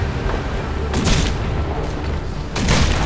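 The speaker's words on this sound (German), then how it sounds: "wenn ich mit der Hauptkanone schieße" A ship's main cannon booms in Risen 3, several heavy shots landing in quick succession over a rumbling backdrop, loud and close.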